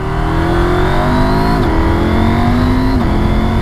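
A Husqvarna Norden 901 motorcycle engine revs loud and close as it pulls hard, its pitch climbing steadily, then dipping briefly twice for quick, clutchless quickshifter gear changes before rising again.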